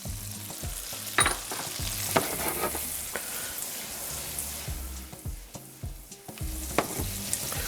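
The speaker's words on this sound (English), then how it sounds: "We'll start sauteing our garlic." Garlic sautés in a pan with a dense, continuous sizzle, broken by occasional scraping stirs and clinks of a utensil against the pan, close and fairly loud, with no talk.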